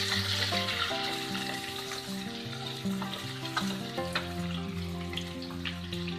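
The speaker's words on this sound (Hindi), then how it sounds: "अब इसमें आलू डाल दें कटा हुआ" Chopped potatoes frying with onions in a pan, a steady sizzle with scraping stir sounds and a low background hum.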